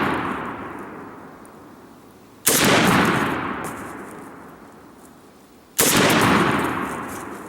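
Two sharp, loud shots from a Zastava M92 PAP pistol without a muzzle brake crack outdoors a few seconds apart, each followed by a long ringing decay.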